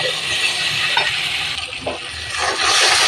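Coriander leaves drop into hot oil in a pan while fish curry is cooked, giving a loud, steady sizzle with some light stirring and clinks throughout.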